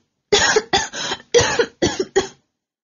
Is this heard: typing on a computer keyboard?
no